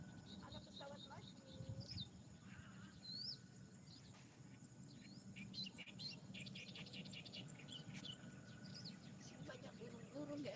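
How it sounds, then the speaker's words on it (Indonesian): Many birds chirping and tweeting on a morning walk outdoors, scattered faint calls and whistles over steady background noise and low rumble, with people talking nearby. "Banyak burung-burung, guys."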